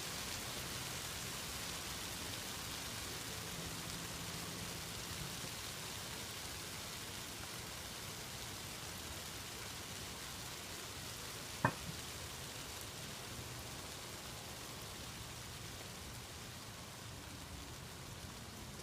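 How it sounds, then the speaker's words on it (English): Heavy rain falls steadily, a dense even hiss that holds constant, with one brief sharp tap partway through. "I'll just leave you guys here for a couple minutes with the harder rain"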